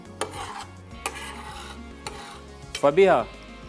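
Boiled vegetables being stirred and roasted in a pot over a flame for a desi vegetable katakat, giving a few soft scraping, rasping strokes followed by a brief louder clatter near the end.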